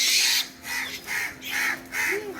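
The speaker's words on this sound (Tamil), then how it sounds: "எல்லா காக்காயும் கூப்பிட்டுரும்." Several crows caw in a steady series of about five harsh, close calls, one after another, over a faint constant hum, with no voices.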